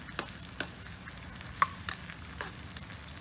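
Tomatoes and garlic cook in a hot pan with a soft, faint sizzle, punctuated by a few sharp clicks and taps of tongs against the pan.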